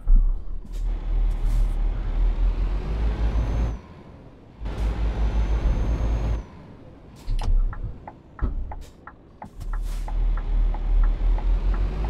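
A truck engine in Euro Truck Simulator 2 starts and idles with a deep low rumble, interrupted by loud hissing air-brake bursts and a series of sharp clicking ticks, close and clear.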